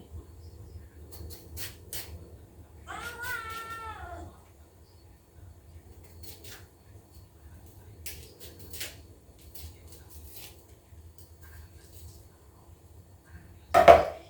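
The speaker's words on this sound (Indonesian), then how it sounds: "Ini ada suara kucing." A single drawn-out meow from a stray cat rises and falls amid quiet kitchen clicks and clatter, followed by a sharp knock near the end.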